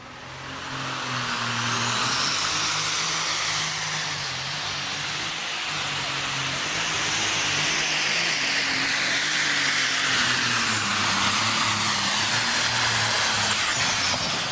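Loud John Deere pulling tractor at a fairground tractor pull, its engine roaring hard and steady as it runs down the track, with a rising high whine and no talk.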